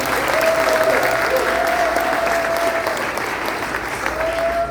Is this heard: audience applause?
yes